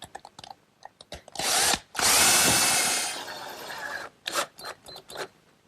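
A power drill drives a screw into the bottom of a wooden CD storage case in a woodworking shop, with a short whir followed by a longer loud burst of driving, then scattered clicks and taps of handling.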